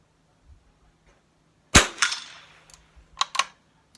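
A sharp close rifle shot from a heavy Schultz and Larsen M47 fired offhand, followed by metallic clicks and clacks of the action being worked, with no talk.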